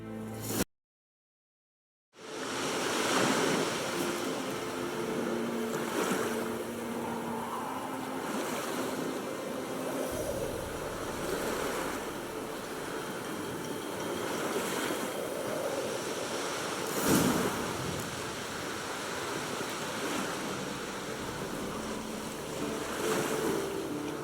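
A rowing boat crosses a lake in The Witcher 3, giving a steady wash of lapping water and wind that starts after a brief silence and carries on evenly, with no talking.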